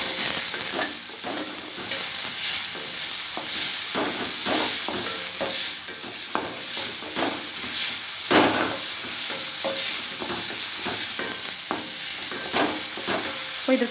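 Chopped tomatoes tossed into onions frying in a pan: a continuous loud hiss and sizzle broken by frequent scraping stirs, heard up close with no voices.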